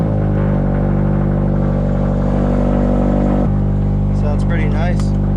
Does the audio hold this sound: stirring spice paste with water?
no